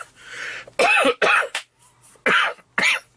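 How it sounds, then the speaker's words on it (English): Man on a comic book review podcast coughs several times in quick succession, each bout short, harsh and close to the microphone, with brief quiet gaps between the bursts. "Told you I was going to cough."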